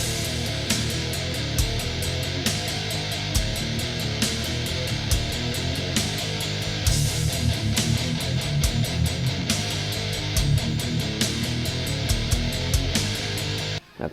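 Heavy distorted electric guitar plays a riff through a Neural DSP preset with stock IRs. It is dense and loud, with chugging palm-muted rhythm and accents across the whole stretch.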